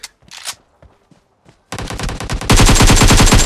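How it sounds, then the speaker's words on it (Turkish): Gunfire in PUBG Mobile: a few faint scattered shots and footsteps, then loud sustained automatic bursts close by, growing denser and heavier toward the end. "Bir mermi attım adama."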